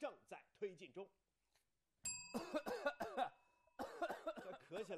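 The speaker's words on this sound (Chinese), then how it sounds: "这咳起来没完没了" A person coughs repeatedly in a cough medicine advertisement: short harsh bursts in quick groups, close and loud, broken by a brief pause, with a bell-like chime ringing once partway through.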